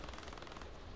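Rapid automatic gunfire from Call of Duty: Modern Warfare, a dense burst of closely spaced shots that cuts off abruptly near the end.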